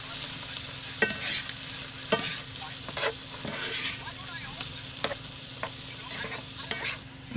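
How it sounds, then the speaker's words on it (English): Hot sauce being stirred into chicken burrito filling in a pan on an RV stove: steady sizzling and frying with repeated scraping and clacking of the utensil against the pan, close and fairly quiet. "Turn it down, mix it all together."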